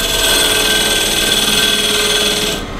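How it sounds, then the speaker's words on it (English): A skew chisel cuts into a spinning wooden bowl blank on a lathe, giving a loud, steady, continuous scraping whir that holds for a few seconds and then cuts off. "I'm just gonna use my skew chisel here"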